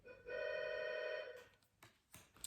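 A telephone bell rings once in a quiet room, a bright steady ring just over a second long, followed by faint rustling and small knocks.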